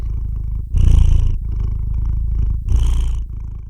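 Close, steady cat purring with a rhythmic rumble, swelling louder on two breaths and softer in between, with no other sounds.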